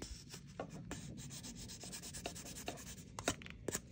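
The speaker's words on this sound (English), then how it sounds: "New sanding sticks are wonderful when they're new." A new sanding stick rubs quickly back and forth over a mold line on a plastic AMT Corvette ZR1 model car body, producing close, soft, scratchy strokes in a steady rapid rhythm.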